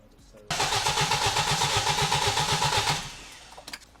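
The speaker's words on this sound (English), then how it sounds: "we're just gonna put the key in, put a battery in it, and see if it'll start up" A car engine from an M43 turbo build cranks with a rapid rhythmic chugging for about two and a half seconds, then cuts off and falls quiet; voices are heard around it.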